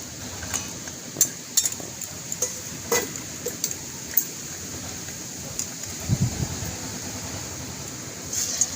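Semolina sweets fry in hot oil with a soft, faint continuous sizzle, broken by scattered light clicks and scrapes of stirring, quiet and close with no talking.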